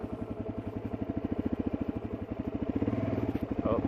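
A light dirt motorcycle on a mountain trail runs at low speed, its engine thumping in a quick, even chug close by that grows slightly louder toward the end.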